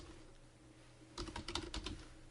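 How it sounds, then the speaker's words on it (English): Typing on a computer keyboard: after a quiet stretch, a quick burst of close key clicks and taps, about a dozen strokes in uneven rhythm, with no talking. "hit a little enter, type in destinations"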